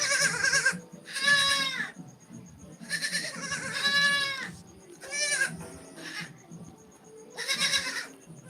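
Young goat kids bleat loudly on a goat farm in several separate, wavering cries, one after another, close by with short pauses between.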